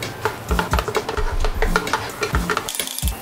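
Garlic being sautéed in butter in a pan for chicken a la king sauce, with irregular scraping and stirring clatters over a soft background, close and moderately loud.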